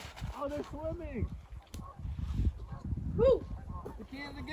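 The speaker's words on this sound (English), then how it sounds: "Canada Goose? Oh, they're swimming." Canada geese swimming on water give a few honking calls at moderate distance, scattered among talking nearby.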